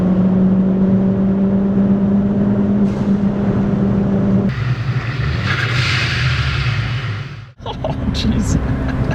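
A big-turbo Ford Focus ST pulls hard at full throttle with a loud, steady engine drone and turbo whine, then lifts off with a sharp whooshing blow-off valve release; a voice exclaims briefly near the end.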